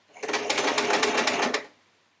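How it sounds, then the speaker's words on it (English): A sewing machine runs through a few stitches on folded quilt fabric in one brief, rapid, buzzing burst of about a second and a half, close and alone. "I'm going to sew a few stitches on, just so I can cut nicely in between."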